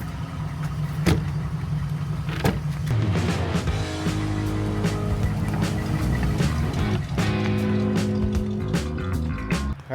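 A Dodge A100 van drives along with a steady, loud engine rumble and road noise throughout, marked by a few sharp knocks or bumps, with no talk.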